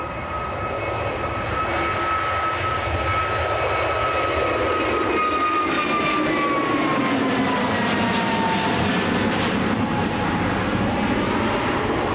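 A Jet2 Airbus A321neo bound for Gran Canaria passes at Manchester Airport under a showery sky, giving a steady engine roar with a high whine that slowly falls in pitch as it goes by.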